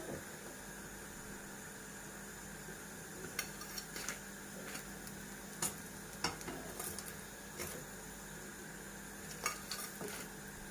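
Quiet, steady sizzle of triangle pastries frying in hot oil with occasional soft clinks and stirring taps, no voices.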